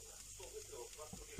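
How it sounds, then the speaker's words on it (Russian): Onion and butter stew in a pan over low heat, a faint, soft sizzle close by with a brief clatter at the end. "Вот сейчас оно у меня будет вот так тушиться на медленном огне."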